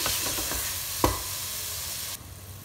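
Cauliflower and potato stir-fry in hot oil with a steady, even sizzle, broken by a sharp clack of a utensil against the pan partway through before the hiss quiets near the end.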